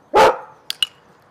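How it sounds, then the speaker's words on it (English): Dog giving one loud, close bark followed by two short, sharper yips during obedience training, then quiet. "Is slightly annoying when he barks all the time"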